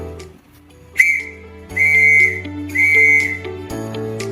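Morse code for the letter W sounds as a clear high whistle-like tone: one short beep followed by two longer beeps, loud and close over a faint background hum.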